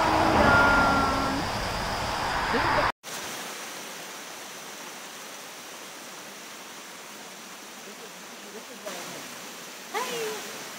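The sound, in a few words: waterfall rushing down a mountain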